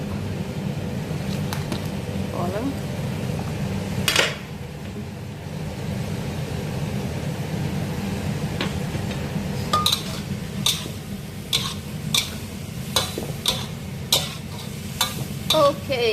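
Bean sprouts stir-fried in a pan: a low steady sizzle with scraping stirs and scattered sharp clinks of a utensil against the pan, growing busier toward the end.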